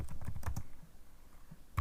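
Keys clatter on a computer keyboard as a file name is typed, a quick close burst of taps in the first half-second that thins to a few scattered strokes and a final tap.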